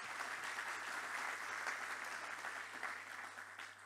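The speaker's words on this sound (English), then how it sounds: "let's give them all a round of applause for all of the work that they've done" An audience claps steadily through a welcome and opening remarks session, a dense even wash of applause that fades slightly toward the end, with no voices over it.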